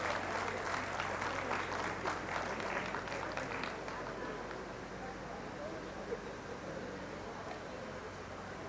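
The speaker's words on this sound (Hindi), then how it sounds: "तालियों से मुख्य अतिथि का स्वागत अवश्य होना चाहिए।" Applause welcoming the chief guest at a Rotary gathering: a dense, steady patter of clapping for about four seconds, then thinning into a softer, fainter spread of hands.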